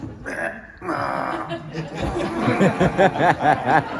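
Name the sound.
voice imitating Nezuko from Demon Slayer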